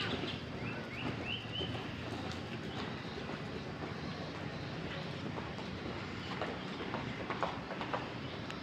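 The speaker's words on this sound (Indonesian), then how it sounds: "ada 3 ekor kuda juga yang sedang menyusul dan berlatih pagi hari ini" Three racehorses train on a track on a Saturday morning, their hooves thudding in a steady, continuous clatter beneath a broad outdoor rumble, with faint birdsong above.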